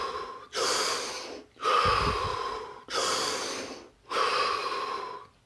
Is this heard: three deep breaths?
yes